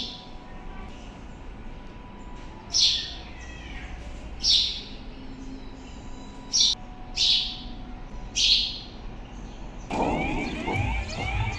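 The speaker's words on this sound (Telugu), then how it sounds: "పక్షులు అరుస్తుంటే మీకు కూడా చూపిస్తున్నా" Several short, sharp bird chirps ring out at intervals over a low outdoor hum, followed by a burst of rustling noise at the end.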